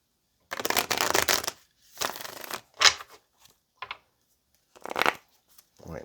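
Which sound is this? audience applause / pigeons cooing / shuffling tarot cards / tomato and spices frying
shuffling tarot cards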